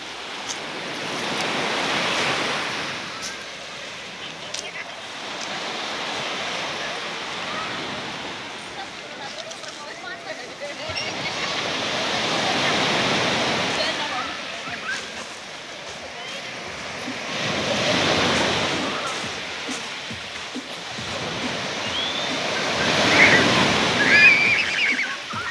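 Surf washing onto a beach, each wave swelling and receding in slow surges about every five seconds, steady and fairly close with wind noise over the microphone and no clear voices.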